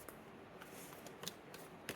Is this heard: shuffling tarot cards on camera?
yes